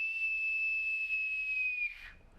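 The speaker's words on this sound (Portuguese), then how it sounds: "Este é o apito de bordo." A naval boatswain's pipe sounds one long, steady, high-pitched whistle held for about two seconds before it cuts off, clear and close in a quiet room.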